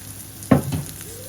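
Chili powder and coriander powder hitting a hot oiled pan, one brief burst of sizzling followed by a short softer hiss, close and moderately loud.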